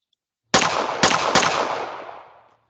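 Three rapid gunshots from a weapon in a Unity VR game, sharp close reports in quick succession that ring out in a fading tail, alone without talk.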